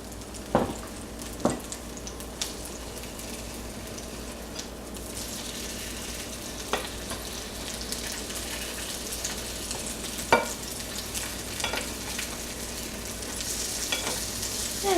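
Quinoa and corn patties fry in a pan with a steady, soft sizzle throughout, punctuated by a few faint clicks and taps; no one speaks.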